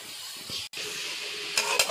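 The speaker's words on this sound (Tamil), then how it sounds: "இப்போ நம்ம இதை நல்லா வதக்கி நம்ம சுருங்க அந்த கொஞ்சமாக கொண்டு வரணும்" Cabbage sautéed in a frying pan for a kose poriyal: a steady, close sizzle and hiss of frying, briefly broken by a short gap, with stirring scrapes toward the end.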